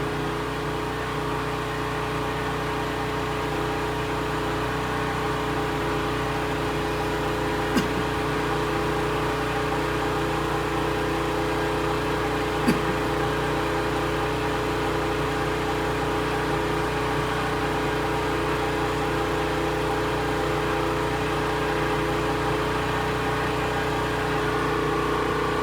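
A vehicle engine with an SHP2 and DP3 failure idles steadily and loud throughout, plugged in with the AC turned off, a constant hum with two brief clicks partway through and no one talking.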